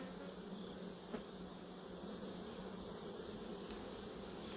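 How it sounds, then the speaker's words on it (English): Honey bees buzz during a hive inspection, a steady, dense drone of many insects close by that holds constant throughout with no talking. "Got too many bees just hanging out here."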